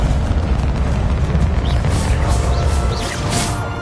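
Bombarda and Confringo spells exploding in the Hogwarts Legacy video game, a dense, continuous rumble of blasts and crashes with bright bursts layered on top, loud and close throughout.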